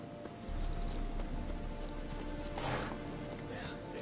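Roach the horse runs in a video game. Hoofbeats clip-clop steadily under a thick layer of game sound, and a voice talks over them.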